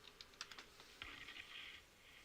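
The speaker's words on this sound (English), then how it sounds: "Let's just type it in." Quick run of computer keyboard keystrokes, a few sharp taps followed by a short burst of faster typing, close and fairly quiet with no one speaking.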